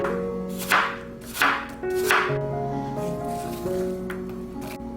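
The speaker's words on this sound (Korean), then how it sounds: "사과 4분의 1개도 작은 크기로 잘라주세요." A knife chops a quarter apple into small pieces on a cutting board, three or four distinct crisp thuds spaced about a second apart, heard under soft background music.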